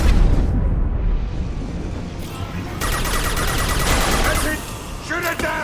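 Heavy gunfire pours at a loosening fuel tank during a Mass Effect firefight, with dense rumbling bursts and booms that continue steadily, partly under shouted voices.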